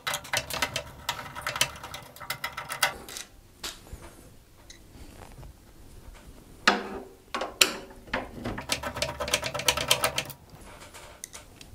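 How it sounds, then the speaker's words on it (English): Magnetic screwdriver backing out two screws inside a PC case while a graphics card is removed, giving quiet, close clicking and ratcheting ticks in irregular bursts with no voices. "use our magnetic screwdriver again, and we're going to move the two screws from inside the PC case"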